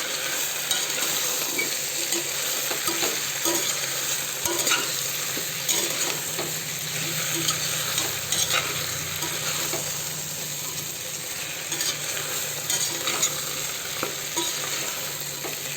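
Chopped taro root fries in a pan while being stirred, with a loud steady sizzle broken by repeated scraping strokes and clinks of a spoon against the metal, no voices.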